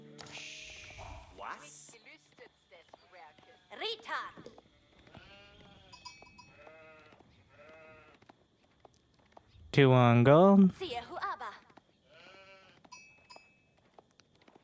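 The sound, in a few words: sheep bleating in video game Age of Empires 4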